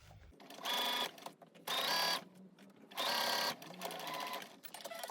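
A sewing machine stitches slowly through folded fabric layers of a washable face mask, running in three loud close bursts of rapid whirring with short pauses between, then a softer, slower run over the lump.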